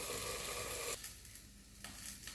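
Tomatoes softening in a pan for a tomato and raw mango chutney, giving a steady low sizzle that drops quieter about halfway through, with faint clinks of stirring.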